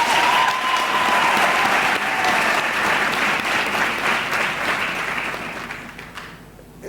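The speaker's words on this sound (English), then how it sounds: "Let us give them another round of applause." Sustained applause from a large audience at a University of Johannesburg graduation ceremony, steady and loud throughout before fading at the end.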